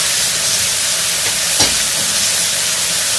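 Vegetables sizzle in hot oil for a Turkish-style vegetable pottery dish: a loud, steady hiss of frying that runs unbroken and alone throughout.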